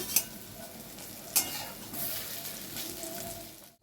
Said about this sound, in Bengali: তো আবার বাকিগুলো ভেজে নিচ্ছি